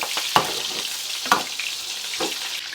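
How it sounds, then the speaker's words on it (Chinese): Scallion, ginger and garlic crackle loudly in plenty of hot oil in a wok, a continuous close sizzle broken by a few sharp stirring scrapes and pops. "葱姜蒜爆香"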